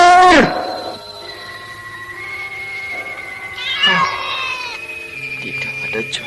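A cat meows loudly in a radio drama, one sharp yowl at the start and a drawn-out meow midway, with a voice speaking between the cries and faint background sounds.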